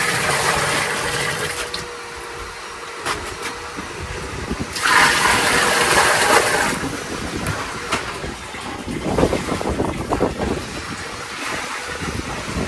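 Water rushes steadily into a new washing machine, a continuous hissing and gushing with surging swells, close and moderately loud, and no talk over it.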